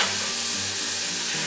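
Drained, rinsed canned chickpeas hitting hot olive oil with garlic give off a steady, close sizzle that holds at an even loudness from start to finish.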